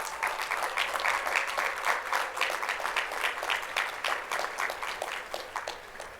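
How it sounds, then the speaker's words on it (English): Sustained applause from a graduation ceremony audience for the graduates of a bioscience high school, a dense wash of many hands clapping steadily throughout at moderate distance, with no speech over it. "Let's give them a big round of applause, graduates."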